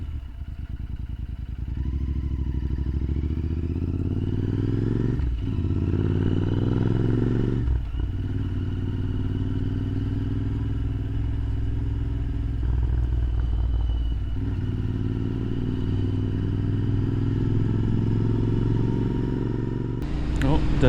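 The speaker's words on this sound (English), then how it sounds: "if you do go with the Zard exhaust system, she sounds lovely when you shut off" A Royal Enfield Interceptor 650 engine with a Zard exhaust drones steadily, with pops and crackles from the exhaust as the throttle closes, heard close up over wind noise.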